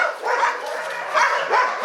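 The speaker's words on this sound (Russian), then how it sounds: "Вот появление новой собаки вызвало такой ажиотаж. У собак, все собаки оживились" Hunting dogs excited by a newcomer yip and bark while playing, giving a few close, loud, high-pitched bursts in quick succession.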